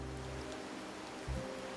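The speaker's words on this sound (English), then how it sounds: "But today's rain feels different." Soft, steady in-game rainfall hissing quietly in the background, with a faint low thump partway through.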